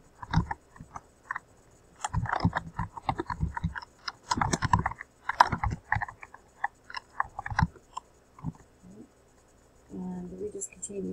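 Bursts of computer keyboard typing come in irregular clusters of quick clicks, fairly close and moderately loud, with brief pauses between runs and a short thud near the end.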